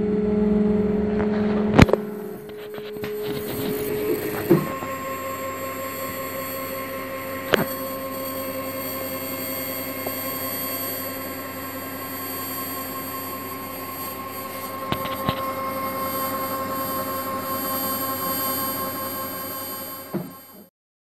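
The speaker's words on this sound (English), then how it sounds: "So let's connect to the printer and start printing." A desktop 3D printer runs a print job, with steady stepper-motor whine and tonal hum sustained for about twenty seconds after a few startup clicks, with occasional faint ticks and no talking.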